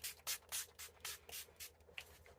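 A series of short, breathy hissing bursts of makeup setting spray from a pump bottle, about eight quick sprays in an uneven rhythm, close and fairly quiet with no voices.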